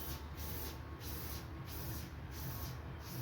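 A hand-pumped spray gun applies Nikwax waterproofing to a tent, giving a soft, regular hissing burst about every half second, five or six sprays in a row, quiet and close with no talk.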